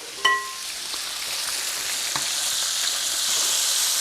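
Walleye fillets sizzle in a hot pan just after being flipped: a sharp knock opens, then a steady, bright frying hiss builds and stays close and even.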